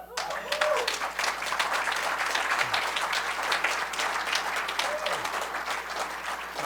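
An audience gives a steady round of applause during closing remarks at a conference, many hands clapping densely at moderate loudness for several seconds, with a faint voice underneath.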